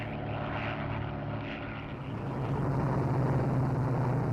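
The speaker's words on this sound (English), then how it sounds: "Soviet fighters are sent up to intercept the spy planes" A Soviet propeller fighter plane drones overhead, its engine hum swelling into a louder, rougher roar as it passes close.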